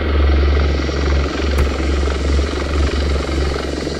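An aircraft in the Ravenfield battle game drones loudly overhead, a steady low engine rumble with a buzzing, rotor-like throb that holds at close range throughout.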